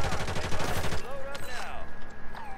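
Rapid automatic gunfire rattles loudly in Call of Duty for about a second, then stops, and scattered game sounds and voices continue afterward.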